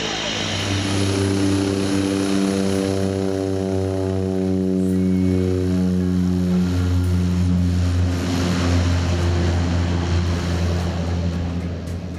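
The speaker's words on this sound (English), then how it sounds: "watching plane after plane after plane coming in and going out" A propeller aircraft drones steadily nearby with a loud, humming engine tone that holds throughout.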